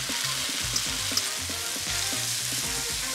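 Cooked pasta tossed into a pan of tom yum sauce, bubbling and sizzling steadily up close, with repeated soft stirring knocks throughout.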